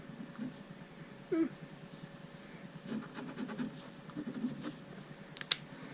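Sharpie S-Gel 0.7mm gel pen scratching across paper in short, faint strokes with small pauses, close up in a quiet room, with a brief tap or click near the end.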